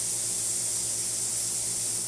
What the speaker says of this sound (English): But now that we service it, steam comes out nice and well.